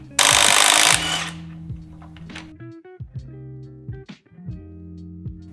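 A power tool in a garage, used for removing lug nuts, fires a loud burst of buzzing whir up front, followed by several shorter spin-ups and clicks with motor whine dropping off.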